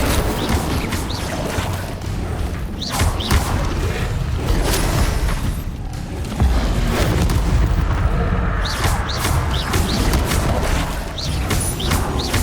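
Repeated Incendio fire spell casts in the Hogwarts Legacy video game, dense booming blasts and crackling bursts in steady succession over a busy, loud combat soundscape.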